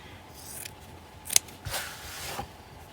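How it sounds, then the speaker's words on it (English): Fabric scissors cutting fabric for a craft collage, heard as a few faint, quiet snips with one sharper close cut in a quiet room. "First I'll need my fabric scissors."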